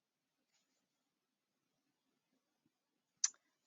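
A single sharp computer mouse click, loud against near silence, registers near the end while someone clicks through a writing center web portal page.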